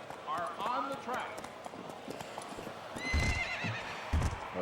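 Racehorses in the Gallop Racer 2004 video game neigh and clip-clop on the track, a loud whinny followed by hoofbeats and crowd-like bustle, with a voice talking over the game sounds.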